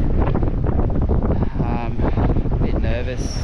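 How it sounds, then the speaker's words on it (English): Wind gusting around an open saltwater fishing spot at Salt Creek ahead of an approaching storm, a steady loud broadband rush buffeting the microphone throughout, with faint voices mixed in beneath it. "Pretty windy."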